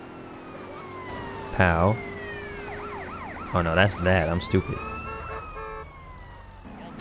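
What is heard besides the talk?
police siren in the video game GTA San Andreas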